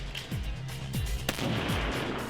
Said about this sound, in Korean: 오히려 이때다 하고 이어지는 사격 훈련